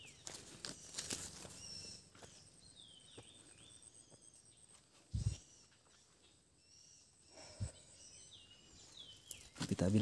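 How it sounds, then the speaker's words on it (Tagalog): Scattered chirps and calls from forest birds sound fairly faint across a wide woodland, over insect chirring, with a few sharp thumps and brief voices. "Nakakagulat yung ingay ng mga ibon."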